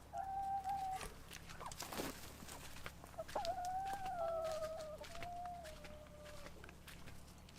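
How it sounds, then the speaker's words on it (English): Farmyard chickens in Portugal making drawn-out, wavering clucking calls, fairly close and clear, one call near the start and a longer one through the middle, over low steady background noise. "Hello, chickens."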